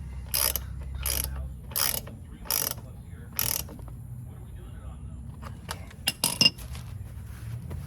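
Close ratchet clicks tighten a bolt on a 2019 Harley-Davidson Street Glide during an oil change: five evenly spaced ratcheting bursts, then scattered metallic clinks and taps of the tool.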